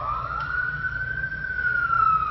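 A loud emergency siren wails as one sustained tone that slowly rises and then falls away, close and steady with no talk over it.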